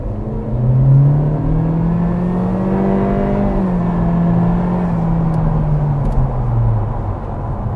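A Honda Civic 11th generation engine revs and accelerates steadily, a continuous rising drone heard from inside the car with no talking.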